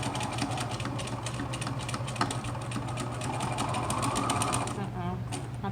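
A sewing machine stitches close to the edge of a fabric face mask with a continuous, rapid mechanical whir and a steady low hum, while a person talks over it.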